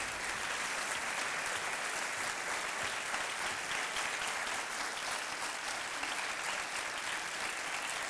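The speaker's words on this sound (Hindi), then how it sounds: "और तालियां बजती रहें।" A TV quiz show studio audience claps in sustained, even applause that fills the whole stretch at moderate distance, with no voices over it.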